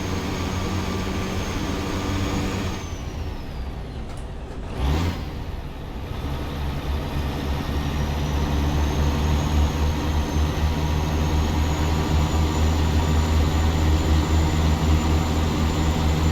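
A low Cat 3406 diesel truck engine in American Truck Simulator drones steadily, with a brief dip and surge partway through as it shifts, then a sustained heavy rumble.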